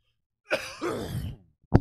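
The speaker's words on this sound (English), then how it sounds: "I just like did a little dusting in my room and now I'm like coughing like a dog" A person coughing after dusting a room, one short cough followed by a longer rough cough and a brief final one, close and alone.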